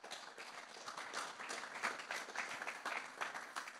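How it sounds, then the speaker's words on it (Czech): Brief applause from an audience at a public talk about Prague's city ring road, a soft, even patter of many hands clapping, quiet and somewhat distant, with no speech over it. "poprosím vás o krátký potlesk"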